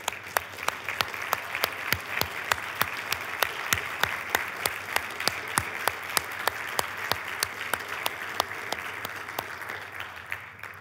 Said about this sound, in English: we want to go ahead and clap for you.